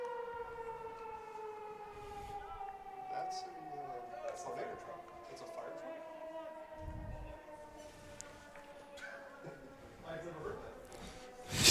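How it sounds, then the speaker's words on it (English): A distant weather siren wails with a slow, steady rising and falling tone, faint in the background at an outdoor high school baseball game, with occasional voices over it. "Yeah, like a weather siren."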